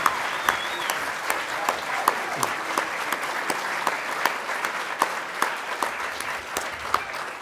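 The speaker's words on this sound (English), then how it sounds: "Come on, give them a round of applause." An audience at an animation festival award event in Dingle, 2018 gives a sustained round of applause that fills the room, with a few sharper individual claps standing out throughout.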